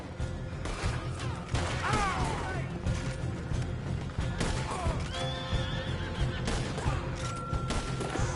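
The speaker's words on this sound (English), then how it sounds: "Now those horses are bolting." Several horses whinny and neigh as they bolt in Red Dead Redemption 2, over a busy, clattering game soundscape, with hoofbeats and crashes mixed in at steady loudness.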